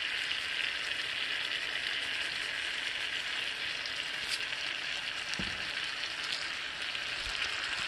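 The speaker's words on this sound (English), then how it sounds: "Wait till the pan gets hot, put the steak in, cover it again with the same things that you got in the skillet, brown it." Steak searing in a hot cast iron skillet with garlic butter, giving a steady, moderately quiet broadband sizzle that holds evenly throughout with a couple of faint low thumps.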